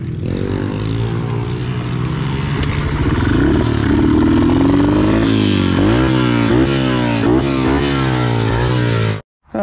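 Pit bike engine ridden around a backyard, revving loud and close with rising and falling pitch sweeps as it accelerates and shifts, continuous for about nine seconds before cutting off abruptly.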